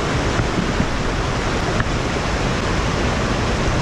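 Water rushes past the wheel of an old mill at Fullersburg Woods Forest Preserve in Illinois. It makes a loud, dense, unbroken roar that holds steady throughout, with no voices over it.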